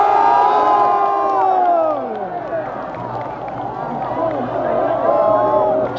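A large crowd cheers and whoops loudly, with excited shouting, children's voices and scattered applause under an announcer talking over the noise at a lively outdoor event.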